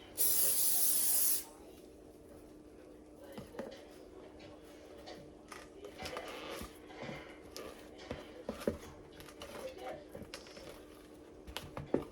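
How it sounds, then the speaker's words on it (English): A loud, close burst of water spray onto an iron hisses for about a second, followed by quieter clicks, taps and light rustling. "I'm gonna spray down my iron again."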